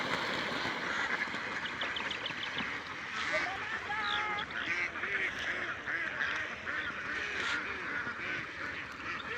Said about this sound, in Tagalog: Hala, grabing itik, sandali, nakakatuwa.